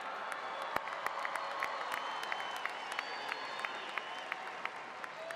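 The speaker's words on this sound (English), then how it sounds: "Stand up and cheer and yell, because this is a day of celebration." A large crowd at a university commencement ceremony applauds and cheers, a dense, distant wash of clapping with scattered sharper claps and whoops, steady throughout and fairly faint.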